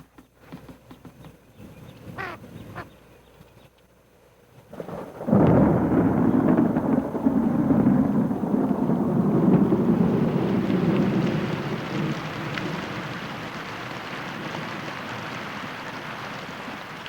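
A thunderstorm in Yellowstone: after a few quiet seconds, a loud, deep thunder rumble breaks in and rolls on, then settles into steady rain that fades somewhat toward the end.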